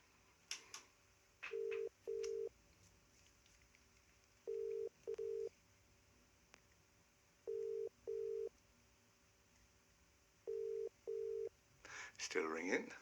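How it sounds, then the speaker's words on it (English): A phone call's ringback tone repeats four times in evenly spaced double pulses, each pair a steady mid-pitched tone, over a quiet background with a brief rustle at the end. "Still ringing, as you can hear."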